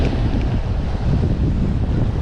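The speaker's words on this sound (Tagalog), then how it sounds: "Kaya lang lumakas yung hangin" Strong wind buffeting the microphone at a fishing spot, a loud continuous low rumble with steady gusting and no voices.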